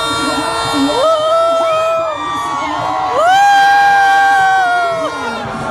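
A crowd of women screams and cheers at a National Day parade in Putrajaya, Malaysia. Loud, sustained high-pitched shrieks rise and fall in overlapping waves with no pause.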